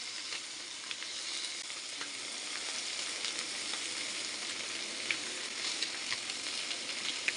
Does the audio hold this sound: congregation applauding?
no